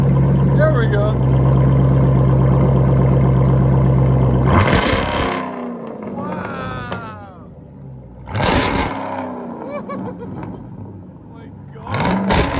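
A 2021 Dodge Durango SRT with a 6.4L 392 HEMI V8 and straight-piped true dual exhaust idles with a loud rumble, then revs hard in several sharp bursts close by, with people talking between the revs.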